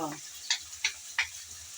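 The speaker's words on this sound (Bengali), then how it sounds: "তেল গরম হয়ে যাওয়ার পর দিয়ে দিলাম পেঁয়াজ কুচি হালকা করে নেড়ে চেড়ে পেঁয়াজ বেজে নেব" Chopped onions hitting hot oil and being stirred, a soft sizzle with three quick scraping stirs close by, fairly quiet.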